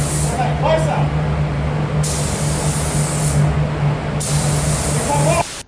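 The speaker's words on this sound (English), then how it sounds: "they have their spray gun too far away" A paint spray gun held too far from the surface hisses in long continuous bursts with short pauses between passes, loud and close, while a steady low hum runs underneath and a voice talks in places.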